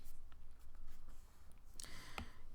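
Pencil sketching a graph on paper gives a faint, steady dry scratching, with a slightly sharper stroke or two near the end, heard alone.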